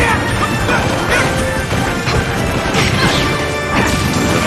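Heavy smash hits from up smash attacks in a Super Smash Bros. Ultimate doubles tournament match, sharp impacts over dense, continuous game noise and crowd-like din.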